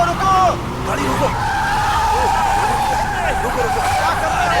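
A car skids with jammed brakes and locked steering in a dubbed action movie, a long high tire squeal sliding over a loud engine drone while voices shout urgently over it.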